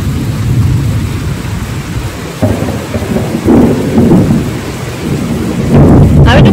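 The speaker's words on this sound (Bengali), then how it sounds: "ভাবো তালি কি পরিমাণে বৃষ্টি হচ্ছে" Heavy rain pours steadily with a loud, dense hiss while deep thunder rumbles roll through, swelling near the middle and end, close and powerful without any talking.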